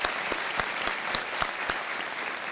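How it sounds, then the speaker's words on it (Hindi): Studio audience applauding on an Indian TV quiz show set, a steady burst of clapping from a sizeable crowd with sharp individual claps standing out, lasting a couple of seconds without talk. "इनके लिए भी तालियां बज जाएं"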